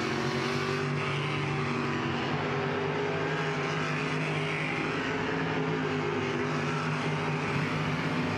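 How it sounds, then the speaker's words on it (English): 305 sprint cars from the Allegheny Sprint Tour racing a hot lap session at Lernerville Speedway, a dense, loud, continuous engine roar with droning, shifting tones as several cars run together. "Green flag waving for the second hot lap session here for the Allegheny Sprint Tour 305s."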